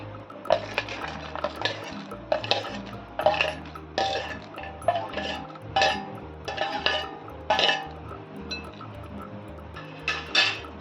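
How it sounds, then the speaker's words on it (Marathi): A spatula stirs crispy fried potato bhujiya with fried peanuts in a metal pan, Bengali style, for a fasting dish. Close, rhythmic scraping and metallic clinks repeat about once a second with no voice. "याला थोडं हलवून घेऊया"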